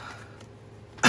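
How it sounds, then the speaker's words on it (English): A single short cough bursts out near the end, loud and close, after a stretch of quiet room tone. "Sorry for the coughing."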